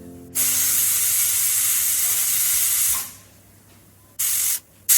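A pressure cooker cooking mutton lets out loud, close steam whistles: one long hiss of about three seconds, then two short bursts, with quieter kitchen sound between them.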